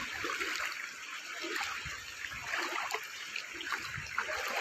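Floodwater rushes and churns steadily, a broad continuous wash of strong flowing current with occasional splashy surges.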